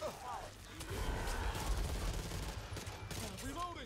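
Rapid automatic gunfire crackles in the zombie shooter Back 4 Blood, a dense fusillade at moderate distance, with a voice faintly mixed in.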